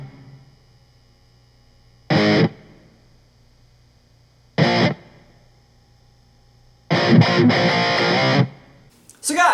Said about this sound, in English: So the beginning of the verse chords, played slowly, should sound like this.